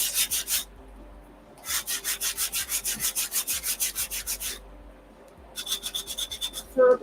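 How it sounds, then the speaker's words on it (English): Sanding on the edges of wooden dowels gives loud, even, rhythmic rubbing strokes in three bursts with short pauses between, close and with no talking. "I'm just going to use my sander"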